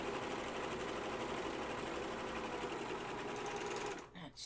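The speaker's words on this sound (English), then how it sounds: "so I just go along all four sides and use the serger." A serger stitches along the sides of a fabric project bag, a fast, steady mechanical whir running close and loud before it stops abruptly near the end.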